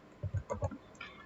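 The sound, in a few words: typing a command on a computer keyboard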